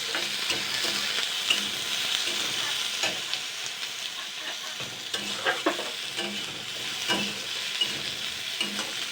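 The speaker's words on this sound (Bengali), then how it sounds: "তো 2 মিনিট মতন ফ্রাই করে নিয়েছি আলুটাকে।" Potato fries in a pan for a susuni greens dish, a constant close sizzle with a steady rhythm of spatula scrapes and knocks against the pan, and no voices.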